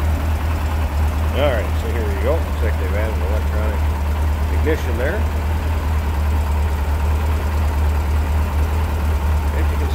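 A stock 1678cc air-cooled engine in a 1978 Volkswagen Super Beetle Convertible idles steadily with a low, even rumble throughout while someone talks over it.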